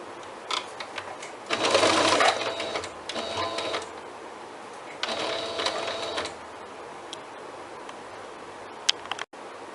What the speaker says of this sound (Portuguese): eu tô terminando de costurar a segunda alça